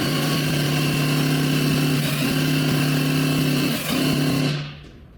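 SPR390 airless paint sprayer running in its highest, sixth pressure setting: a steady, loud motor drone with a constant hum, briefly dipping once and then cutting off near the end.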